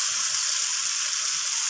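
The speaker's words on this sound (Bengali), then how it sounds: "এখন দিয়ে দেব এর মধ্যে ভেজে রাখা আলুগুলো" Fried potatoes dropped into hot oil and cooked-down spice masala, giving a steady, dense sizzle close up that hisses evenly throughout without pause.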